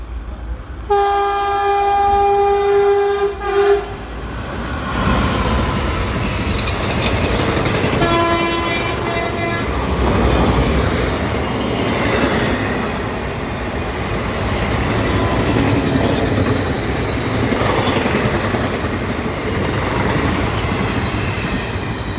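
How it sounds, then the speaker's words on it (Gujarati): A superfast passenger train passes through a station, opening with a loud horn blast, a second shorter horn call, then a sustained rumble and rattle of wagons rushing by close at hand. "તમે જોઈ શકો છો આ ટ્રેન સુપરફાસ્ટ હતી. આ ટ્રેન જતી રહી છે."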